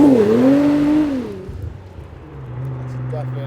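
A Nissan GT-R accelerating in R mode, its engine note sweeping up and down then settling into a steady drone, heard from inside the car while a person talks over it.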